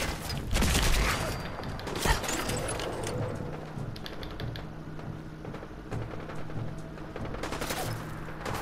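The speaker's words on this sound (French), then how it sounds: "C'est une très belle explosion hein" An explosion followed by bursts of gunfire in the Fallout 4 video game, a loud blast early on, then rapid crackling shots and mechanical clatter continuing throughout.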